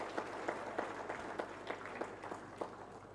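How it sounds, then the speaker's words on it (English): Audience applause at a USAID regional health integration event in Uganda, honoring a team: steady, fairly faint clapping from a crowd, with a few sharper individual claps standing out across the whole stretch. "We can give them a round of applause."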